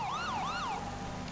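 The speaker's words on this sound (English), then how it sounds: "Make sure you're sounding your siren," A police car siren in FiveM, the GTA V roleplay mod, wails loud and close in steady rising-and-falling sweeps, about two full cycles, with no voices.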